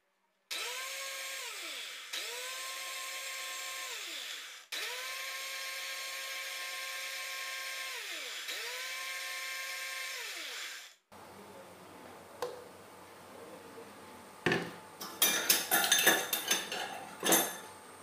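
A kitchen mixer blends jackfruit seeds and milk into an oil-free mayonnaise, running loud and steady in long whirring bursts with brief pauses, then giving way to scraping and clattering.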